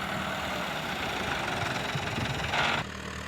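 A tractor engine idles steadily at a low, even rumble during silage making, close and continuous, with a brief rise in pitch near the end before settling again.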